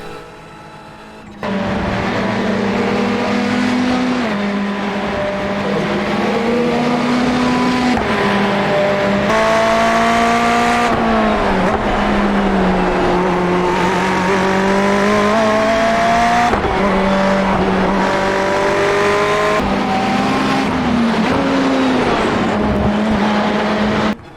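Ferrari 488 race car in iRacing at the Charlotte Roval, its engine droning loud and steady with rising and falling pitch through upshifts and downshifts for the whole run, no talking.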